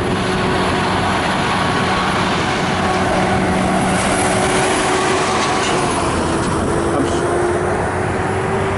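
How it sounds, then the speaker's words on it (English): A truck passes on a road near a hilltop, a loud broadband roar with a steady low drone sustained for several seconds and swelling toward the middle before easing slightly. "There's a truck coming by."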